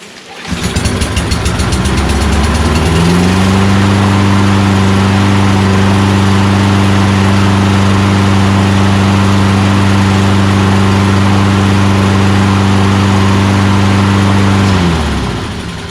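A Toro Recycler lawnmower with a Kohler XT675 engine, recently run on old gas, idling close and loud. It holds a smooth, steady drone without surging for about fifteen seconds, then winds down at the end.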